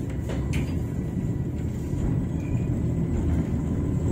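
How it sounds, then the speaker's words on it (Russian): A car drives out past the institute on a cold Odesa street, a steady low rumble of engine and tyres building slightly toward the end, fairly close, with no talk. "выезжает машина"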